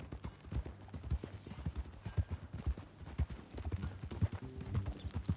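Horse hooves clip-clop steadily at a walking pace in a video game, a close, regular clopping with light background sound and no talk.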